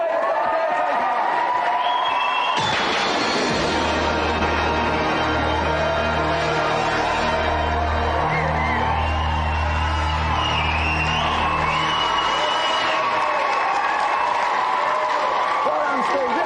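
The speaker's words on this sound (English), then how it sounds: "Let's have another big round of applause for this week's winner, Steve." Studio audience applause and cheering for a game-show winner, a loud sustained roar with whoops that runs for many seconds, with a low musical sting and a presenter's voice over the top.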